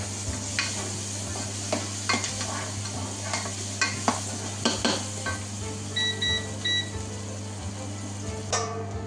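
Bay leaf, cardamom and cinnamon frying in hot oil for beef biryani, a steady sizzle under a low hum with scattered clinks and scrapes of a utensil against the pot, plus a few short beeps.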